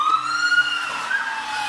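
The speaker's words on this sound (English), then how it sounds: "They had told us to play police sirens, that it really gets it rowdy in here." A police siren played aloud inside the old Wilson County jailhouse, a single sustained wailing tone rising and falling, loud and steady without speech.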